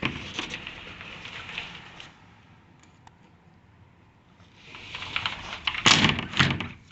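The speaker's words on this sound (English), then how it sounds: "you're closing the door to keep the air conditioning in the room" A hotel balcony sliding door at Waikiki rumbles along its track, with a quiet pause in the middle and a louder scraping slide toward the end, amid steady outdoor background noise.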